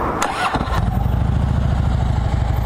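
A 2011 Harley-Davidson Street Glide engine cranks briefly, catches, and settles into a loud, steady, rumbling idle close by.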